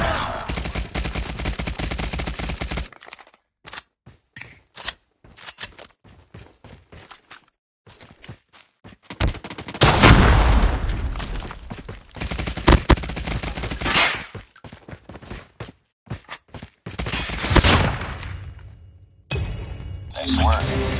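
Bursts of automatic gunfire and single shots from a firefight in the survival video game Rust, coming in several loud volleys separated by quieter gaps with footsteps and game voices.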